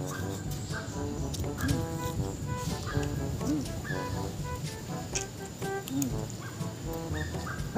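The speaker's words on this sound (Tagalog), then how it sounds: "Kaya aso ko, nagugutom na rin" A pet dog whimpers and barks in a home setting, with high whines and short yelps coming in bursts. Steady background noise runs underneath throughout.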